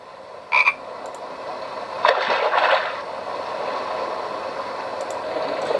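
Frog croaks in a farm exploration video game, pond scene: a short double croak near the start, then a longer, louder croaking burst midway, over a steady game background hum, with no talking.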